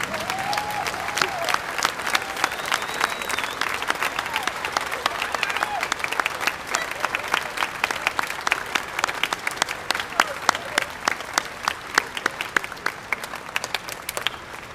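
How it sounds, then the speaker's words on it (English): A standing ovation for retiring teachers and support staff at the Fargo North High School 2014 graduation ceremony: dense, sustained applause from a large crowd, steady and loud throughout with sharp individual claps standing out. "Let's all stand up and give these teachers and support staff member a standing ovation and a rousing thank you."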